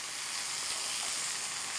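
Veal liver frying in a pan, a close, steady sizzle of hot fat hissing evenly with no talking.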